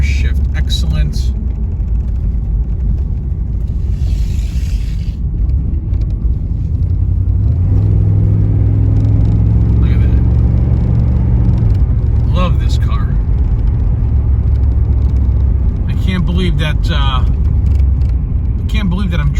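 A 1986 Chevrolet IROC-Z with 16,000 miles is driven. A loud, continuous engine and road rumble fills the cabin, and the engine note rises and shifts partway through.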